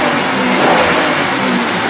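A Buick LeSabre engine under diagnosis for a MAF sensor issue revs, giving a loud, dense, steady roar that fills the short moment without any talking.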